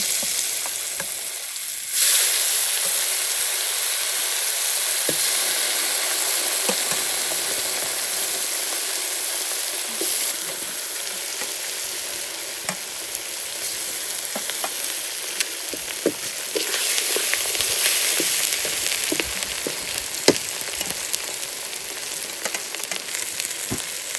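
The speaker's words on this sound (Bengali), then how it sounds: "শুকনো মরিচ দিয়ে দিচ্ছি গোটা জিরে দিয়ে দিচ্ছি" Dried red chillies and whole cumin seeds hitting hot oil and frying in a steady, loud hiss that runs unbroken and close, with a few light crackles and pops and no voices.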